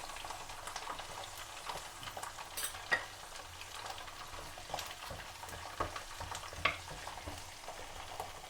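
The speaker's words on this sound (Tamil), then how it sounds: "அதோட 20 கிராம் இஞ்சியையும் இதோட போட்டு பொரிய விடுவோம்." Garlic and ginger frying in oil for a pickle, a steady soft sizzle and crackle with occasional sharper pops and stirring clatters, close and moderately quiet throughout with no talking.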